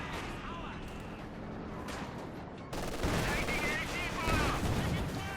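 Pak 40 anti-tank gun firing in Company of Heroes 2, a 1v1 battle with German and Soviet forces, heard as a loud burst of game combat under ongoing battle noise, with game talk around it.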